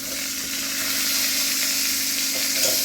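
Tomatoes and green chillies sauté in a pan for a Tamil greens curry, giving a constant close hiss of frying with faint stirring underneath and no voices.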